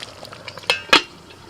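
A lid is set onto a cooking pot of chicken being cooked without water, giving two quick metallic clatters close by over a quiet sizzling background.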